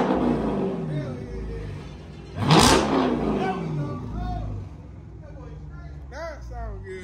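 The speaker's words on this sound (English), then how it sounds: "A few revs finna happen." A car engine idles with a deep rumble, then is revved hard once and settles back, with someone talking over it throughout.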